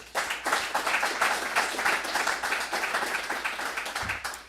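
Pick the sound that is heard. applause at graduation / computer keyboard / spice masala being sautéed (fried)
applause at graduation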